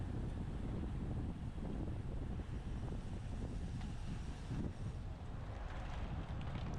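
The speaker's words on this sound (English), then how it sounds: "we're going to be directly going into the headwind" Steady, loud wind roar buffets the microphone of a cyclist riding straight into a headwind during a Senior Men Category 4 road race stage, a continuous low rumble with no break and no talking.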